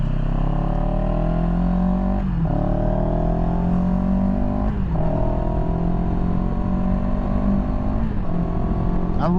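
A 2023 CFMoto 700CL-X Sport motorcycle ridden on the road, its engine note climbing steadily in pitch and then dropping at each of three gear changes, loud and close throughout.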